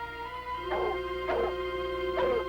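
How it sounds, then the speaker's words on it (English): Hunting dogs on a mountain trail in the high country give three short yelping barks and whimpers, spaced evenly over a sustained musical score. "As the dogs solved the riddle of the rocks, Chimbica doubled back, retracing her own footsteps"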